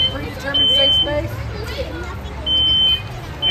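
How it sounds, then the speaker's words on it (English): Smoke alarms shriek in two long, loud, piercing electronic bursts inside a fire sprinkler demonstration house. A crowd's chatter and children's voices carry on underneath the alarms. "So you're hearing the alarms."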